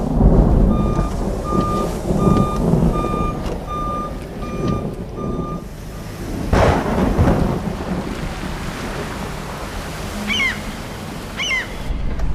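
Rain pours steadily through a movie thunderstorm scene, with a sharp crack and rumble of thunder midway; a row of regular electronic beeps sounds in the first half.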